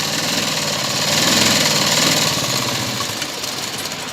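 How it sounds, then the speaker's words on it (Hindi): A sewing machine runs a straight seam along a one-inch margin on a chudidar, a loud, continuous, rhythmic motor hum with rapid needle chatter, close and uninterrupted. "यहाँ पर हम इस तरीके से स्ट्रेट सिलाई लगाएंगे"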